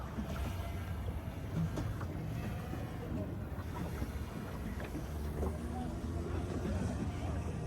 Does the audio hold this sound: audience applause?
no